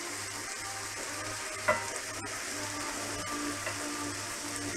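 Butter melts and sizzles in a frying pan, a steady close crackling hiss with a couple of soft utensil taps while the pan heats for a tomato, mushroom and pepper omelette.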